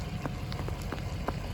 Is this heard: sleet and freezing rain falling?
yes